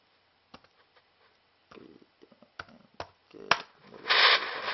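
Quiet, intermittent scraping and rubbing, like sanding by hand, starting with a few light strokes and building to a longer, harsher rasp near the end.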